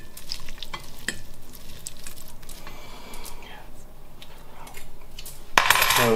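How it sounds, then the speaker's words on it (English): Cooked pasta is stirred with pesto sauce in a pan, with soft scraping and a quiet sizzle, sporadic metallic clinks of a utensil and a louder clatter near the end, along with faint speech. "and start stirring"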